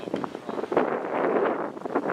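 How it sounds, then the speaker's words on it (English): Gusty wind buffets the microphone on an exposed hilltop above a dam, a steady rushing roar that swells and eases across the whole stretch. "It's a bit windy up here."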